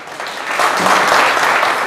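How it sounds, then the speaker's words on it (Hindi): An audience at a network marketing leadership training seminar applauds, a dense, loud wash of clapping that swells and holds steady throughout. "तो सबके लिए एक बार जोरदार ताली बजा दो आप"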